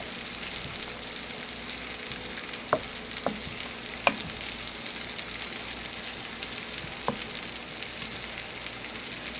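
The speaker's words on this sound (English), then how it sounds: "Going to let this simmer with the meatballs." Meatballs simmering in a pan with garlic powder, a steady soft sizzle broken by a few sharp pops and stirring clicks, with no talking.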